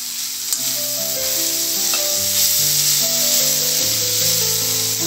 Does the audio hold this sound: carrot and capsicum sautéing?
yes